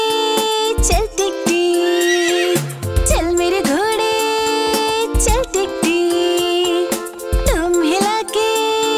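A horse neighs amid a bright children's Hindi rhyme with synth music, several quick whinnying cries rising and falling over the steady, loud backing track.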